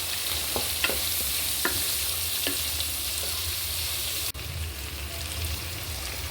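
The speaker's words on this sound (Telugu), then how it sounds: "ఆయిల్లోనే బాగా ఫ్రై అవ్వాలి." Onions fry in oil in a pan with a steady, close hiss, and a few light stirring scrapes sound early on before a brief click, after which the sizzle continues on its own.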